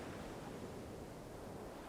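A moderate sea breaks on the shore near a Madagascar fishing village, a very faint, steady broadband wash of surf with a touch of wind and no voices.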